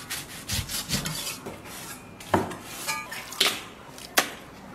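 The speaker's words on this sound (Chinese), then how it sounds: "牛腩牛油改刀成大块" A knife cuts beef brisket and beef fat into large chunks on a wooden board, with irregular dull thuds and scraping strokes, a few sharper chops standing out, close and fairly quiet with no talk.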